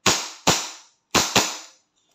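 WE 1911 MEU airsoft pistol firing four sharp cracking shots, two quick pairs with a short gap between them, each with a brief decaying tail, loud and close, no talk.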